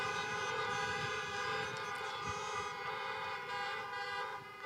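Car horns blare at an outdoor high school graduation ceremony, a dense sustained chorus of overlapping honks from many vehicles that holds steady and loud before easing slightly at the end.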